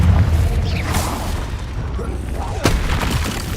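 A Confringo explosion spell in Hogwarts Legacy, a loud booming blast with rumbling low end and a second sharp burst near the end, under continuous game sound.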